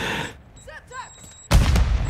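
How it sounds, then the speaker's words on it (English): A grenade goes off in Warzone DMZ, a sudden loud blast that cuts in after a quieter stretch of gunfire and short voice sounds, then rumbles on until the end. "That grenade perfectly hit me."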